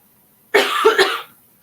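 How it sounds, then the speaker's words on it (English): A single short cough burst with two or three quick hacks, close and fairly loud, isolated against quiet. "I got a cough, excuse me."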